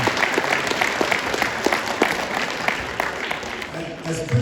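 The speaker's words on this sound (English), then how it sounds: "So please give yourselves a round of applause." Audience applause at a middle school welcome evening for incoming sixth graders, a steady crowd of clapping hands filling the room at moderate loudness throughout, with some talk underneath.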